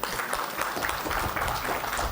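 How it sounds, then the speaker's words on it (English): A luncheon audience at a Grade 12 farewell at Ashford Academy applauds the guest of honor, dense continuous clapping from many hands that fills the room at even loudness. "a round of applause for Miss Ruth Moto"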